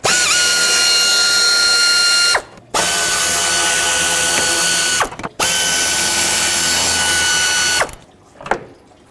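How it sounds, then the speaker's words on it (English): Power ratchet removing three 8mm cover bolts on a 1997-2003 Ford F-150, three loud, sustained whirring runs of a couple seconds each, separated by brief pauses, the last one short. "I need to remove this cover, 3 8mm bolts."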